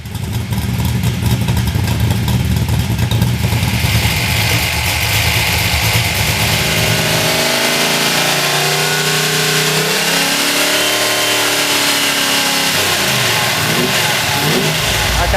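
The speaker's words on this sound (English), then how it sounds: "we're going to proceed to run it up on the dyno to check air fuel ratio at different points" A car engine on a dyno during its bedding-in run, with 28 degrees of total timing set. It starts in a loud steady roar, then revs rise and fall repeatedly in sweeping pitch, loud and close throughout, with no voices.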